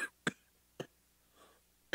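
Several sharp coughs in a row, close and fairly loud, spaced apart with short quiet gaps between them.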